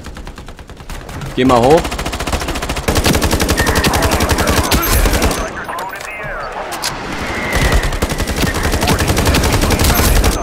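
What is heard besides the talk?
gunfire in the video game Ironsight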